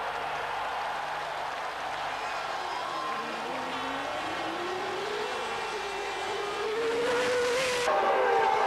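Formula 1 cars racing at the 1992 Grand Prix, a loud screaming engine note with pitch sweeping upward through gears and a sharp pass near the end, over crowd-like background noise.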